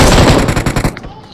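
A short, loud burst of rapid automatic gunfire in a video game rattles for about a second, then cuts off and fades.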